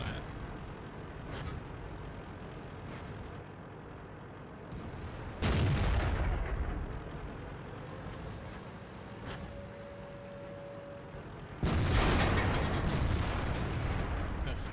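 Tank cannon fire in World of Tanks, two heavy booming shots several seconds apart over a rumbling engine and battle ambience.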